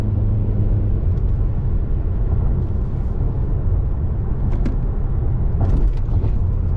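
The turbocharged engine of a 2023 Chevrolet Malibu RS drones steadily under acceleration as heard from inside the cabin, with a loud, constant low rumble, road noise and a few faint clicks, and no talking.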